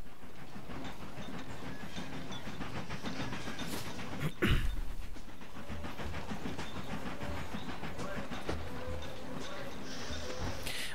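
A freight train pulling timber wagons rolls past in the Machinky video game, a continuous rumbling clatter with a brief louder burst near the middle, all fairly quiet throughout.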